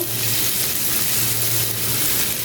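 Finely minced garlic fries in melted butter, giving a steady, close, dense sizzle that holds evenly throughout.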